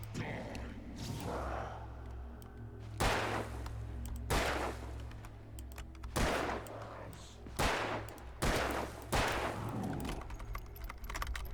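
Gunshots fired in the video game Alan Wake, about six loud, sharp blasts spaced a second or two apart over a steady low background hum.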